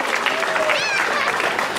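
Audience applause at the opening of Vilnius Capital Days, a steady wash of clapping from a crowd that runs through the whole moment, with a voice briefly audible over it.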